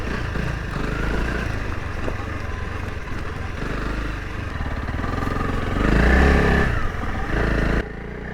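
A 2023 Honda CRF300L Rally motorcycle rides off-road along a rough power-line trail, its single-cylinder engine chugging steadily close by with clattering terrain noise, then revving harder for a moment near the end.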